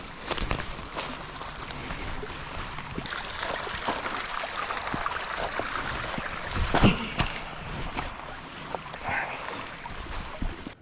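Water flows and burbles steadily along a creek, a continuous rushing wash with small splashes, heard up close without any talking.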